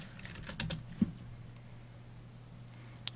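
Scattered keystrokes on a computer keyboard at a desk while coding a Java 2D game, a few soft taps and one sharper click over a low steady hum, with long quiet gaps between them.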